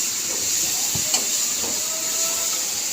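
Garlic paste and mustard paste fry in a pan with a steady, even hiss of sizzling oil that holds level throughout, with a faint clink partway through.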